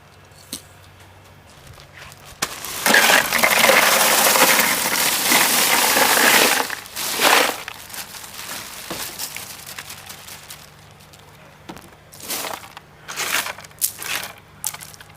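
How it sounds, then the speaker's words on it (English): Ice poured into an aircraft-style ice chest: a loud rattling crunch of cubes tumbling in for several seconds, then scattered clinks and shuffling of ice as it settles, no talking. "that's 16 pounds of ice in the ice chest now"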